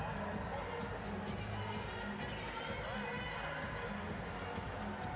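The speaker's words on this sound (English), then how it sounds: "Excellent crowd there" Crowd cheering and shouting in an indoor arena during a sitting volleyball match at the London 2012 Paralympic Games, a steady loud roar with no let-up, children's high shouts mixed in.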